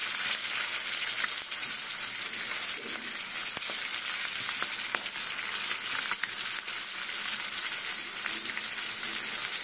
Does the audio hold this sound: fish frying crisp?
yes